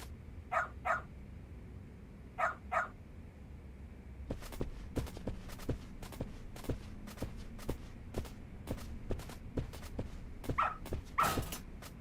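A dog barks in the video game Lost Judgment: a couple of paired yaps early on, then a steady run of quick footsteps and thuds, with another sharp bark near the end, moderately loud and close.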